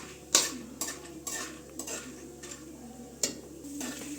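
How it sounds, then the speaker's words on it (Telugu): Cashews fry in ghee in a pan for sheer khurma while a spoon stirs them, giving a series of close metallic scrapes and clinks over a low, soft sizzle. "ఇప్పుడు జీడిపప్పు నెయ్యిలో వేగింది."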